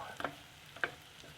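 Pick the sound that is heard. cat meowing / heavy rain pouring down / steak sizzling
steak sizzling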